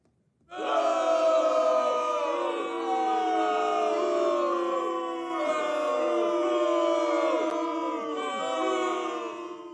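A large crowd booing and groaning in disapproval, a loud sustained wave of jeering voices that swells and dips without pause for nearly ten seconds.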